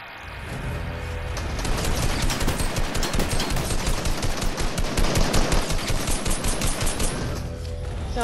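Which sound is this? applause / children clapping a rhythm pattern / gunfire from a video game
gunfire from a video game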